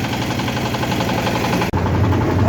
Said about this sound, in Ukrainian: на тракторі я ще не їздила. Зараз поїду в кузові, в прицепі.